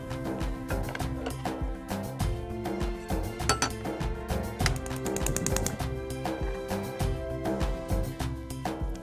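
A small pan and other kitchenware clink and rattle in a home kitchen while stuffed eggplant (bharli vangi) filling is being prepared, with busy metallic clatter continuing throughout, close by and fairly steady.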